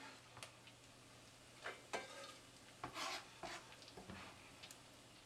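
Garlic in oil for a homemade French bread pizza sauce, a faint low sizzle broken by several soft scraping stirs of a utensil in the pan, quiet and close with no voices.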